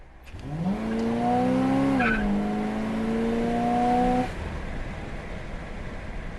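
A 1979 Chevrolet Malibu Classic Landau G-body car accelerates hard from a roll, its engine rising in pitch and then holding steady through a gear change while tires squeal loudly for several seconds before the noise drops away.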